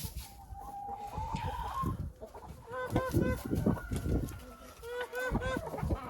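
Hens cluck in a greenhouse, a mix of short repeated clucks and drawn-out calls, close and moderately loud over soft rustling.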